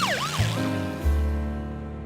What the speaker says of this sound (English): George always wanted to ride in an ambulance